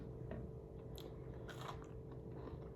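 Crunchy cookies being bitten and chewed close up, a few crisp crunches over a steady background hiss, with no talking.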